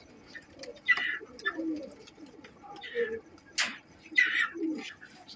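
Pigeons coo softly in several short, throaty bursts, with chirps and faint rustling between them. The birds sound close but quiet against a calm background, and no one speaks.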